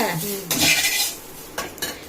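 Dry chillies rattle and scrape in a pan as they are stirred while roasting for chilli powder, in two short bursts of crisp rustling close by.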